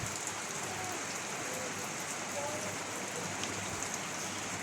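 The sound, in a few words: heavy rain falling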